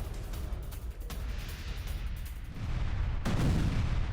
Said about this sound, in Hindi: यूक्रेन ने रूसी सेना पर बरसाया है बारूद